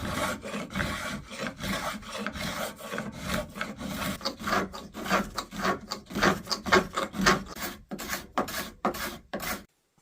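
A cabinet rasp files steadily across a knotty wooden spoon blank, giving a close, rough scraping in repeated quick strokes that continue for about ten seconds before stopping.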